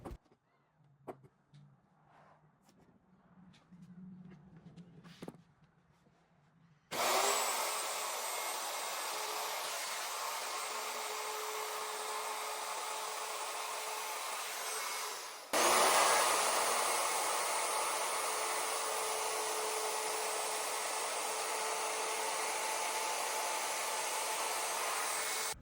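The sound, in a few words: router shaping edges of wooden dresser legs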